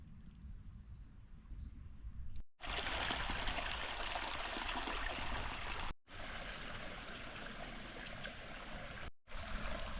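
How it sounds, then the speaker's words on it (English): Clear stream water flowing through a Peak District valley among Hay, Peter and Monk dales, a close, steady rushing babble broken by two brief cuts, with no voices. "Stream's down here, we're climbing up."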